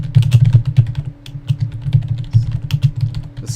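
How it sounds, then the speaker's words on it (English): Rapid, close typing on a computer keyboard while chatting during a game, with irregular bursts of clicking keys, loud and with no talk over it. "Just typing in chat."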